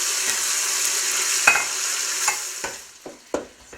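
Chunks of lean pork lightly browning in butter and olive oil in a pan, a steady soft sizzle broken by scattered crackles and a few sharper pops from stirring.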